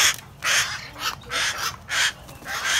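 Caged hill mynas give harsh, raspy calls in a steady series of about five loud bursts, close by, with a low background rumble.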